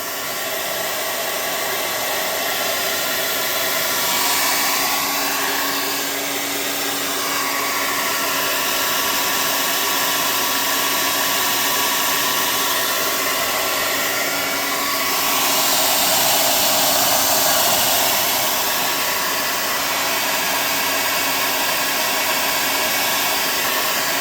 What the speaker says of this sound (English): now it's blowing out hot air